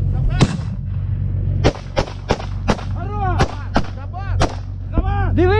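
BMP-1 infantry fighting vehicle firing its cannon and machine gun during an assault: about a dozen sharp, loud shots at uneven intervals, each with a ringing echoing tail, over a constant engine rumble.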